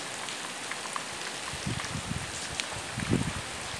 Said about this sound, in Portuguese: a chuva chegou fortemente aqui na região do oeste baiano da Bahia.